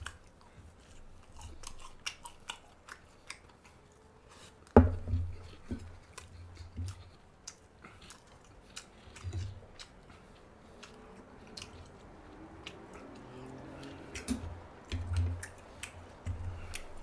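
Quiet, close crunching and chewing of crispy, partly charred grilled mackerel skin in irregular bites, with occasional sharper crackles and a soft low background.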